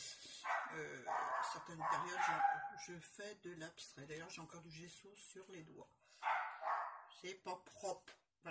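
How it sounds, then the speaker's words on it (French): A pet dog in an art studio barks in a few short bursts, mostly in two clusters, under a person speaking French nearly throughout. "Ah, c'est mon chien qui aboie."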